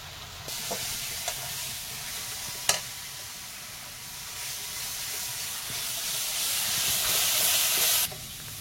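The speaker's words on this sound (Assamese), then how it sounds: "এতিয়া ধুনীয়াকৈ এইখিনি কেঁচা গুড়টো নোযোৱালৈকে মই ভাজি থাকিম লৰাই" Ground spices, including chili powder and turmeric, fry in a little oil while being stirred, producing a continuous sizzling hiss that grows louder toward the end, with a few sharp clinks of the spoon along the way.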